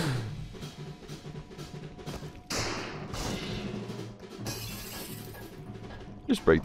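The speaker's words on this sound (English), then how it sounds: "Just break the glass." Glass shatters in the APE OUT video game in a bright crashing burst, set among sharp percussive hits and thuds within busy game sound, with speech in the background.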